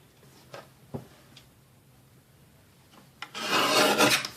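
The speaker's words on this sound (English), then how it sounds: "Actually, I'm just going to trim off a little bit at the bottom." Cardstock being trimmed on a paper trimmer: a few light clicks and taps, then a short, loud rasping slice of the blade through the card near the end.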